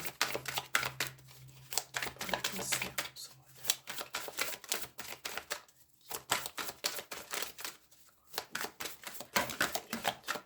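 Tarot cards are shuffled by hand for a reading, quiet rapid riffling and flicking in bursts with short pauses between, close and soft, with no talking.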